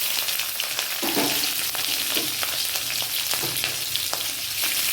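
Chopped onion and green chilli fry in hot oil in a pan, a dense continuous sizzle up close with light stirring taps scattered through it.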